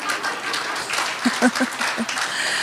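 A church congregation gives a thin, scattered round of applause during an evangelical sermon, a soft, steady wash of clapping with a few sharper hand claps standing out.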